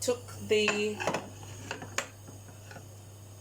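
A metal pot used for roast pork and now for making gravy clanks and scrapes in a few short knocks, near and moderately loud, with a faint hum in the background.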